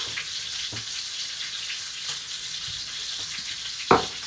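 Steak with garlic and mushrooms sizzles steadily in a cast iron skillet, a continuous frying hiss with a few soft stirring scrapes and one sharper clatter near the end, no talking.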